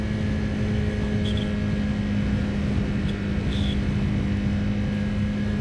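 Aprilia Tuono 1000 motorcycle engine held at about 6,000 rpm, giving a steady, loud, continuous drone with a constant tone throughout.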